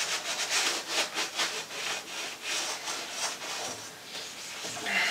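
Brisk back-and-forth scrubbing of a greasy oven interior comes through as rhythmic rasping strokes, close and fairly quiet, with no talking.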